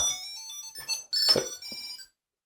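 A short electronic chirping alert from a Bluetooth key tracker's built-in speaker rings out in a couple of bursts, first softer and then louder, before cutting off into silence.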